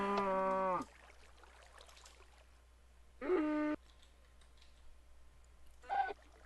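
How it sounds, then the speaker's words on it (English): Baby cows in Minecraft lowing as they are punched, three separate short moos with quiet gaps: a longer one at the start, then two shorter ones, clear and fairly close over faint background noise. "Punching baby cows."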